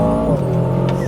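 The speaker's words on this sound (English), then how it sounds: "Oh my goodness, what a thing this engine is." An Aston Martin DBX707 with a 4.0-litre V8 holds a deep, loud, steady rumble at close range, with a brief rise at the very end and no talking.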